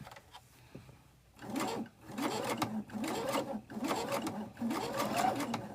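Sewing machine stitching quilt blocks together side by side, running in repeated bursts of rhythmic stitching separated by brief pauses, close and fairly loud with no talk.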